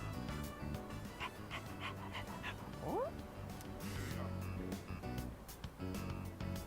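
A stray dog in the video game Persona 3 Reload pants, yips and barks in short bursts over a steady game music bed, with some rising whimpering calls near the middle.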